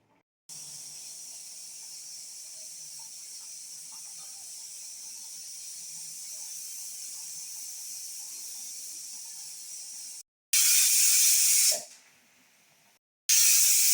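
Pressure cooker on a stove, cooking a thotakura pulusu with carrot, hisses steadily with a high steam jet for about ten seconds, then gives a louder sharp whistling burst that fades, followed by another loud blast at the end.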